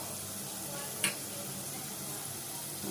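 Coriander powder, chili powder and green chili paste fry in a pan for a mushroom fry, giving a soft, steady sizzle with one brief utensil click, faint and close.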